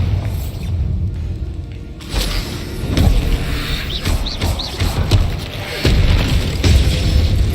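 Bombarda explosion spells blast in Hogwarts Legacy: loud, booming thuds that hit about two seconds in and repeat several times amid rumbling game action, close and heavy, with no speech.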